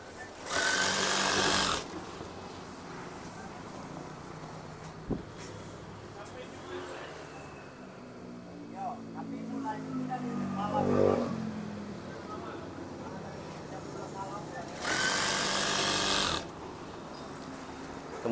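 A sewing machine stitching curtain fabric runs in two short loud bursts of rapid mechanical whirring near the start and end, with a quiet voice and handling sounds in between.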